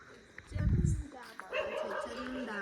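A dog gives a short bark followed by high whimpering yips, close by, with a person talking over the sounds.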